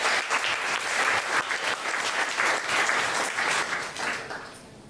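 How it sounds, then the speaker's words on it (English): Steady applause from an audience at a 1 Million Cups startup pitch event greets the TROBO storytelling robot presenter, many hands clapping densely and continuously for about five seconds with no talk. "please give him a warm round of applause"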